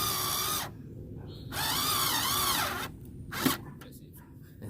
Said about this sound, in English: I'm gonna show you guys what this nifty little screwdriver will do.